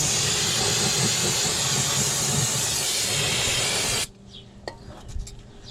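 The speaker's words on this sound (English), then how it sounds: "Got some brake cleaners here" Brake cleaner sprays onto a transmission housing in one loud, continuous hiss lasting about four seconds, then cuts off abruptly, leaving a few faint clinks and handling sounds.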